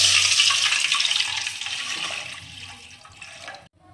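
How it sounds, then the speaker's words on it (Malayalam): Water gushes into a pot in one continuous pour, loud at first and tapering off before a faint clink at the end. "അത് അളന്ന് എടുത്ത വെള്ളമാണിത്. അപ്പോൾ ഒഴിച്ചു കൊടുക്കാം."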